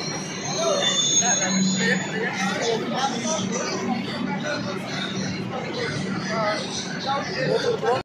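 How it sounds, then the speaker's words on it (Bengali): Metro train at Dum Dum metro station, its wheels squealing steadily on the rails with a rumbling roar that fills the platform, while people talk nearby. "এখন ট্রেন, একটা ট্রেন চলে গেছে, বেরিয়ে গেছে, আরেকটা ট্রেন আসবে"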